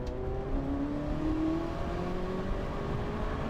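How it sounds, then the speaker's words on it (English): A V8 supercar engine revs and pulls under load, its pitch climbing steadily in a continuous, fairly close growl with no voices. "That V8, it's like nothing else I've ever heard. It's got a really beautiful bark to it."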